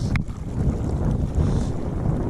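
Wind blowing across a mountain lake in the Hoover Wilderness, a steady low rumbling buffet with gusts pushing against the microphone, continuous and fairly loud with no voices.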